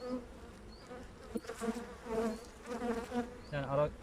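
Honey bees buzz steadily at close range during a hive inspection, a dense droning hum with individual bees swelling louder as they pass near.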